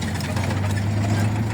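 Steady low rumble of an arriving bangka boat's engine idling nearby, droning continuously without pause.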